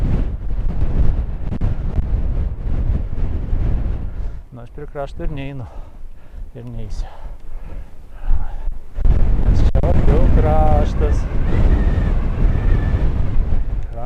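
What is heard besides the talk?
wind blowing on a hilltop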